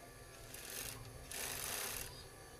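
A sewing machine stitches bridesmaid gown fabric in two steady bursts of motor whir, close and moderately loud, separated by a brief quieter pause with faint background hum.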